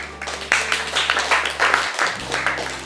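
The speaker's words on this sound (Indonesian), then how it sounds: "Tepuk tangan buat teman-teman." A small group claps for friends during a calligraphy lesson, a few seconds of uneven, fairly close hand claps over a steady low hum.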